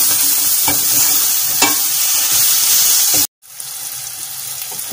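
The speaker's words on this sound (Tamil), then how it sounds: "இப்போ நம்ம எடுத்து வச்சுருக்க மல்லி இலை, புதினா இது ரெண்டையுமே வந்து உள்ளே சேர்த்துக்கலாம். இது நல்லா ஒரு நிமிஷம் நல்லா வதக்கிட்டுக்கோங்க" Coriander leaves and mint stirred in a hot pan for chicken curry, a steady close sizzle with scraping stirs, briefly cut to silence near the end before the frying resumes.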